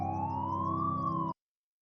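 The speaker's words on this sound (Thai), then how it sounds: "เสียงรถตำรวจครับ" A police siren wails steadily, its pitch slowly rising and falling, loud and close, then cuts off abruptly into silence.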